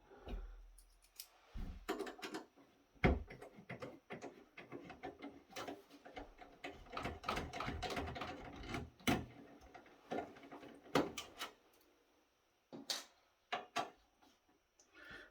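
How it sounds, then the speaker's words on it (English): A screwdriver backing T8 screws out of a Cisco ASA 5585-X security appliance, a run of soft clicks, ticks and small metallic scrapes in irregular bursts, close and fairly quiet with brief pauses. "there's some screws on the front I need to get real quick"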